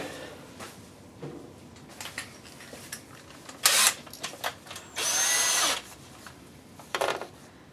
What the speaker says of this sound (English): So I'm going to have to drill that second hole.